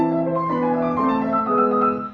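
A piano plays a short run of even eighth notes from Beethoven's Tempest Sonata, Op. 31 No. 2, in a stiff, evenly spaced way, close and clear, fading at the end.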